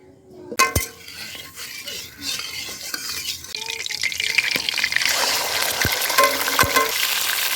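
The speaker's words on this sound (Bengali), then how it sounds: "এবার চিকেনটা একটু কষে নিচ্ছি জাস্ট হালকা করে কষে নেবো বোনলেস চিকেন" Boneless chicken fries in a little white oil while a utensil stirs and scrapes the pan, with clinks of metal and a steady sizzle building louder toward the end.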